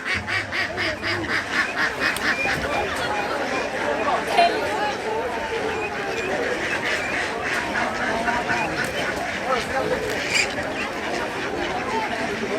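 A flock of ducks being offered at a temple quacks constantly and close by, a noisy overlapping chorus with people talking underneath.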